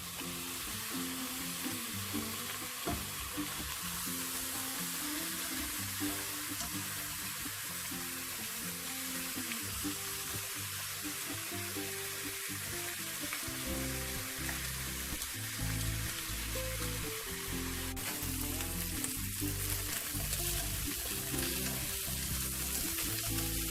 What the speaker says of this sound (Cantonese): 先煎一煎嗰啲羊肉先，咁唔使落油